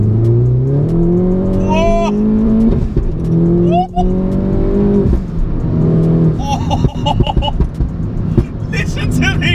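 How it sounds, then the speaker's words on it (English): Tuned Mini John Cooper Works R56 with a 300 bhp turbo engine, forged internals, paddle clutch and sport mode on, its exhaust rising through repeated revs and gear pulls, loud and close from inside, with crackles and pops near the end. "Listen to the exhaust going."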